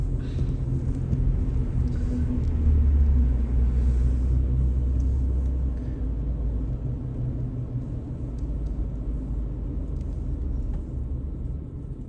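Car driving along a country road past trees and a lake, a steady low engine and tyre rumble from inside the cabin that swells slightly then settles, with no talk.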